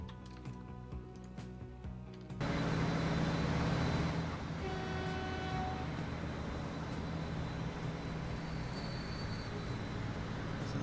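Freight trains running on a line in the Transport Fever game, a steady rumbling rail drone that swells suddenly and stays loud and continuous, with faint tonal horn-like notes in places.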